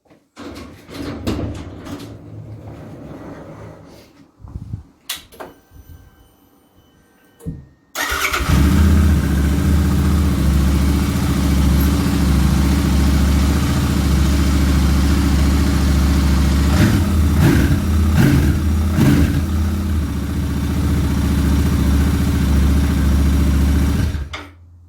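A Royal Enfield 650 Interceptor or Continental GT twin with its standard exhaust. Early on there are a few clicks and rustles, then the engine starts and settles into a loud, close, steady idle with occasional revs.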